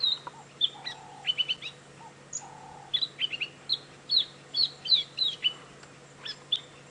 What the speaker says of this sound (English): it is James's favorite bird, the white-browed scrub robin